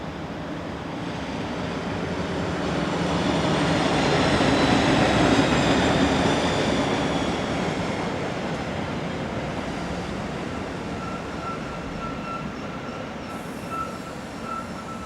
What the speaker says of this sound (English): The train is seen arriving at St. Johann im Pongau.